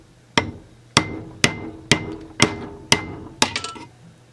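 A hammer strikes a socket to drive the oil seal out of a Husqvarna 262xp chainsaw crankcase. Eight sharp metallic blows land at an even rhythm about half a second apart, close and loud, with a quick flurry of lighter taps at the end.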